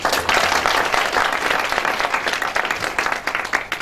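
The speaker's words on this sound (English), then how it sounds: "give a big round of applause to everyone being present in the room today, please?" An audience at the 2013 ArcelorMittal Summit applauds in a dense, steady wash of clapping that holds loud and even throughout, with faint voices mixed in.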